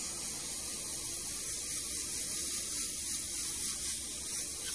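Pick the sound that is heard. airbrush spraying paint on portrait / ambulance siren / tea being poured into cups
airbrush spraying paint on portrait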